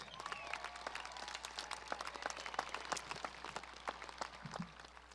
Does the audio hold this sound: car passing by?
no